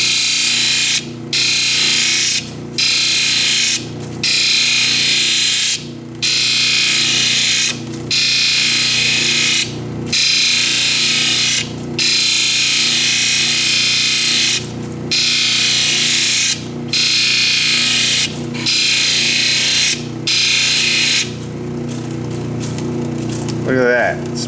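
A lapidary machine polishes a stone cabochon, giving a loud, steady grinding whir that is broken by regular short pauses as the stone is lifted and rolled, with a rising whine near the end.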